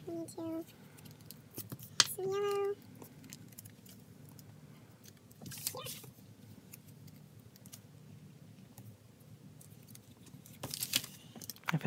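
Scissors snip washi tape while trimming a scrapbook layout, with a few sharp quiet cuts and rustles close up in a quiet room, including a distinct metallic snip near the start.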